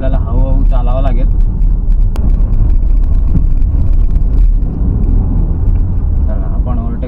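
A car driving on a local link road in Vasai while moving to overtake a slow tempo, with steady low engine and road rumble, brief horn-like tonal bursts near the start and end, and a person talking over it.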